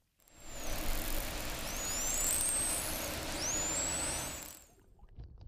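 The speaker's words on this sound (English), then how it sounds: "And this is a rough-toothed dolphin." Rough-toothed dolphin recorded underwater, giving several high, sweeping whistles that rise and fall in pitch over a steady hiss of water noise, fairly faint and with no voices.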